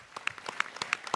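Scattered clapping from a small audience at a college pitch competition for a team called Heavenly Tech: a dozen or so distinct, uneven hand claps in quick succession, fairly close and moderately loud, without talking.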